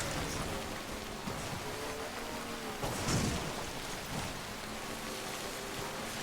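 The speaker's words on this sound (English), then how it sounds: "Well, I can't use that bridge because it's raining." Steady rain pours across the landscape of Death Stranding with a low thunder rumble swelling midway, a dense continuous wash of drops close and even throughout.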